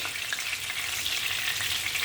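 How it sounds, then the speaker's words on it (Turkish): Steady, dense sizzling of eggplant slices frying in hot oil in a pan, continuous crackle with no talking. "Şimdi arkadaşlar çok fazla kızartmıyoruz"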